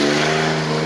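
A loud truck engine revs hard and steady, a dense mid-range roar with a strong low hum holding throughout, no voices over it.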